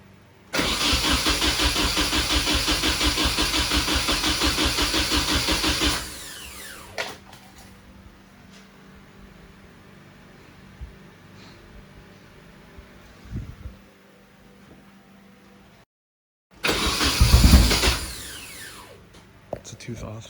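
A car engine with its timing set a tooth off cranks and catches, running loud and rough for several seconds before cutting out; quieter shuffling and faint talk follow, then a second burst of engine noise near the end.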